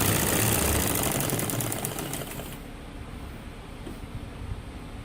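A sewing machine stitches a gents kameez side pocket, running in a loud steady mechanical whir for over two seconds before easing into a quieter, lighter hum.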